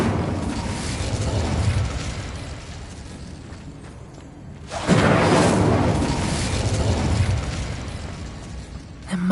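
An Incendio fire spell in the Hogwarts Legacy video game bursts out midway with a sudden roaring whoosh of flame, loud and close, over a constant rumbling game background that continues before and after.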